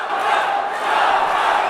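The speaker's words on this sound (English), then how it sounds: "The home crowd started chanting his name" Home arena crowd for fighter Shavkat Rakhmonov roaring in a dense, sustained wall of massed voices, chanting his name between rounds with no break in the noise.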